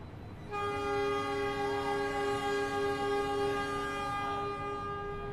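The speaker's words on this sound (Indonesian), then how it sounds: "Nah, Argo Dwi Pangganya ini berangkat teman-teman" Argo Dwi Pangga passenger train departing Gambir station in Jakarta, its horn sounding a loud, sustained multi-tone chord that holds steady for several seconds over rumbling rail noise, with no voices.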